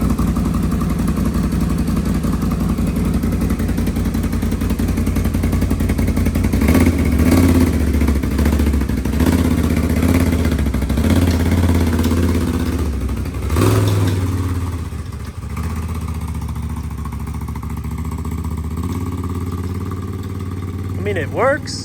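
An RC monster ATV with headlights drives around outside, its electric motor whirring and revving over clattering wheels, close and fairly loud while people talk over it throughout.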